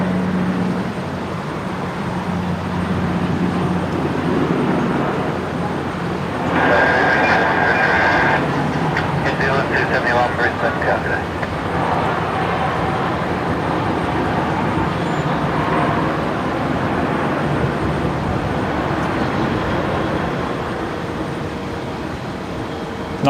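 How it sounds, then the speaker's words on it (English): A Dash 8 turboprop departing Brisbane Airport at night gives a loud, sustained engine drone and rumble that swells partway through, then stays steady as the aircraft moves off. "This beautiful Dash 8 just departing here."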